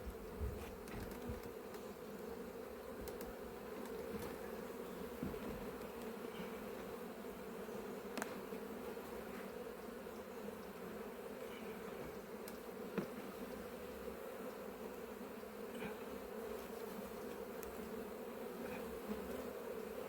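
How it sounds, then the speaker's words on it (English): Honeybees swarm around an opened hive in an apiary, a continuous loud drone of many wings close by, steady throughout with occasional individual bees passing nearer. "There's a few flying bees in there."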